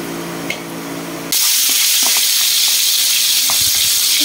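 Hot oil sizzles loudly and steadily as catfish, garlic, shallots, red chilies, bird's eye chilies and tomato go into the pan, with a quieter hiss before the loud burst and faint scattered crackles after it.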